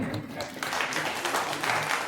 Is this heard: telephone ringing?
no